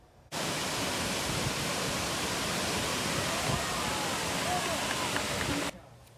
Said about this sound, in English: Various competitors braving the elements to dive down a nearly 20-meter waterfall.